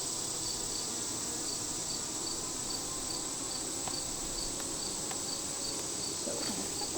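Honey bees buzz in an open hive during an inspection, a steady dense hum close by that runs unbroken throughout, with a few faint clicks over it.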